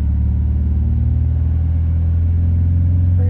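Nissan 350Z engine held at a steady raised speed of about 2,500 RPM, a continuous low droning hum heard up close and alone, no talk.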